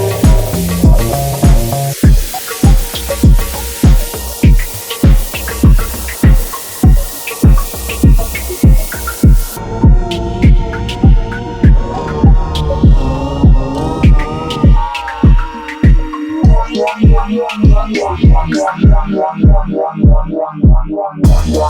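A Dnipro Radiant Eurorack multi-effects module runs a synth through distortion, phaser and chord effects, giving a loud, rhythmic train of evenly pulsing notes whose tone sweeps and shifts partway through.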